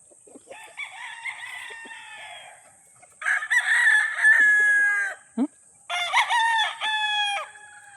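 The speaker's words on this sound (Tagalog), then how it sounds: "Ilang mga manok diri mga sobra ni 500 ka buok" Roosters on a farm of over 500 chickens crow in three long, loud, close bouts, with short clucks between them and no voices.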